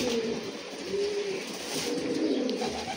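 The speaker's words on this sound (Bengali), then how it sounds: "অনেক সুন্দর একটি কবুতর" Pigeon cooing, a breeding or racing pigeon kept at a home loft, with soft, low, repeated coos that stay steady and near throughout, alone with no talk.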